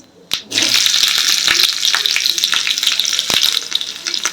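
Cumin seeds and finely chopped green chili hit hot oil that already holds popped mustard seeds, setting off a loud, bright sizzle that holds steady with occasional stirring clicks, no voices present.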